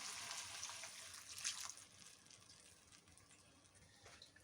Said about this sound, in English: Now we will add our water.